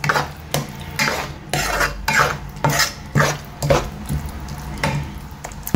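A utensil scrapes and stirs paneer masala in a pan, rhythmic scraping strokes about every half second with metallic clinks, close and fairly loud.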